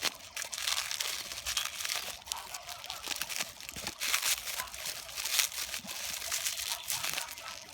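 A parcel of shop goods is unwrapped close up, with crinkling plastic and paper packaging rustling, tearing and crunching continuously and fairly loudly.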